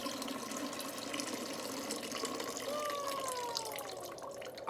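Faint, steady trickle of water poured into a container during a science experiment in the dark, a soft continuous splashing that runs the whole time and is heard alone at low level.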